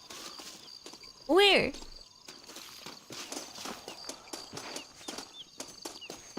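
Horse hooves clip-clop steadily in the Red Dead Redemption game, a soft, even trotting rhythm that carries on after a single spoken word near the start.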